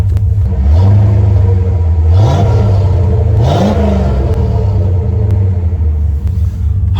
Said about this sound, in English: give her a few revs here for you guys to hear